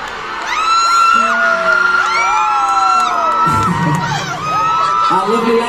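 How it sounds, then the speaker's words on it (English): A large concert crowd at a pop band's live show in Manila cheers and whoops loudly, with high shrieks and yells rising and falling over a sustained roar of voices. "so just give them a little round of applause"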